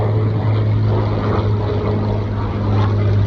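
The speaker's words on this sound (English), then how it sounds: "there's a Supermarine Spitfire flying over the showground" A Supermarine Spitfire with a Rolls-Royce Merlin engine flies over a county showground, its loud, steady propeller drone filling the air continuously with no voices.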